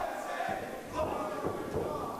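A backyard wrestling crowd heckles Dan Makabe, loud jeering and shouting rising in bursts over a muffled arena din with a thud or two.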